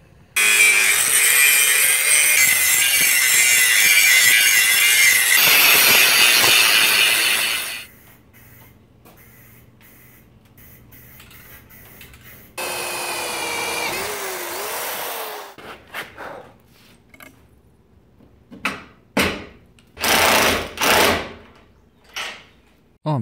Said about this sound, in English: now it's just a bunch of grinding